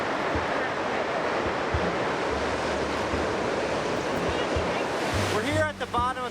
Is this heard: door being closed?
no